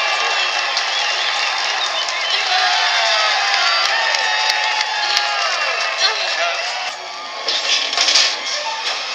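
Crowd noise from a TV show's audience, with cheering, whoops and scattered clapping holding steady throughout and swelling near the end, a busy wash of many voices at a moderate distance.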